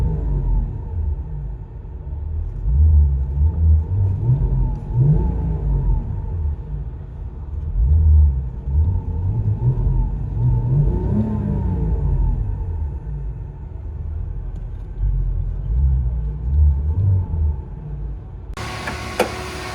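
A 2002 VW EuroVan with a 2.8L engine and a Spec-D muffler rumbles at close range, revving up and down repeatedly in low, throaty swells before a brief clatter at the end.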